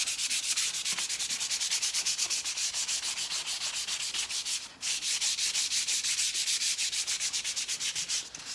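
Stained wood on a console table is sanded by hand in rapid, rhythmic back-and-forth strokes, a close, continuous scratchy rasp with one brief pause midway.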